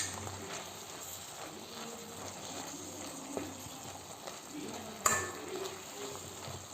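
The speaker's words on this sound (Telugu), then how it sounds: "సో అవి కూడా వేసి ఒక 2 మినిట్స్ వరకు ఆయిల్లోనే మగ్గిద్దాము." Coriander stems fry and are stirred in hot oil for a tomato coriander chutney, giving a continuous soft sizzle, with light scraping from stirring and one sharp clink of the utensil near the end.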